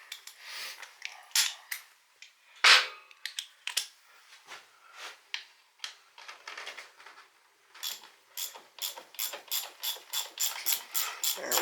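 Ratchet wrench clicking while working on a 1978 Honda XR75 dirt bike, with bursts of rapid close ratcheting and a steadier run of repeated strokes near the end.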